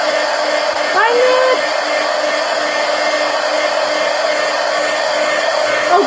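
Hair dryer blowing on a mixed media artwork, a loud steady whirring hiss running throughout with a brief rising tonal whine near the start, close to the mic.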